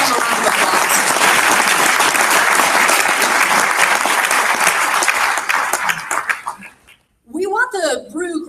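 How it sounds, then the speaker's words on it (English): Audience applause for Rich Musin at a Wisconsin water technology event: loud, dense clapping carries on steadily for about six seconds, then thins out and stops, and voices follow after a brief silence. "Would you join me in giving him a round of applause?"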